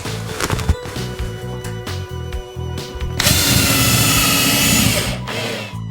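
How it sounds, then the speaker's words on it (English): A cordless power drill drives screws into coving, whirring in short bursts and then running in one longer sustained whine, close and loud. "so we can start screwing it off now"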